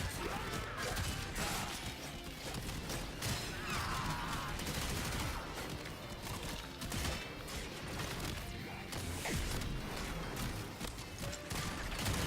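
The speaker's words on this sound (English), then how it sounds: "I just reloaded everybody whilst getting constantly shot at and set on fire." Continuous gunfire and impacts from the PC shooter Warframe fill the whole stretch, dense overlapping shots and crashes, loud and unrelenting.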